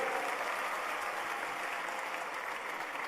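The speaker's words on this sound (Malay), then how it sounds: "Tepukan gemuruh untuk Yang Amat Berhormat Datuk Seri" Audience applause at a TN50 youth dialogue event in Negeri Sembilan, Malaysia, honouring a senior politician; a dense, steady wash of many hands clapping throughout, fairly soft and distant, with no talk over it.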